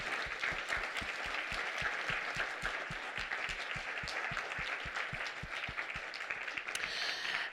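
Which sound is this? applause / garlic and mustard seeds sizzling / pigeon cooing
applause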